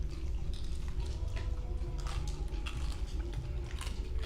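Crunchy, crispy crust-heavy food is bitten and chewed close up, with repeated crackling crunches in an uneven rhythm at low volume and no talk.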